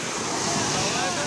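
Big sea waves rolling and surging on a rainy, windy day, heard as a steady broadband roar mixed with wind buffeting the microphone, continuous and close throughout.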